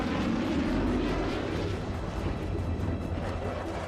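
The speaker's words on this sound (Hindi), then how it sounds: "यूरोफाइटर टाइफून हैंगर से बाहर निकलता है और फौरन टेक ऑफ कर जाता है।" A Eurofighter Typhoon fighter jet, fully armed with missiles, rolls out of an airbase hangar and takes off at once, giving a loud, continuous broadband jet roar that holds steady throughout.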